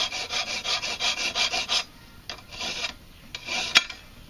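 A wooden flute track tool for Native American flute making is cleaned along its inside angle, giving a rhythmic close rasping rub of about ten quick strokes, then a pause and a few scattered scrapes, with no talking.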